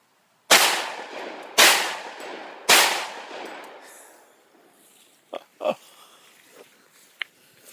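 Three loud gunshots fired in quick succession at a Smittybuilt fender to make custom bullet holes, each sharp crack trailing off, followed by a few faint clicks and knocks.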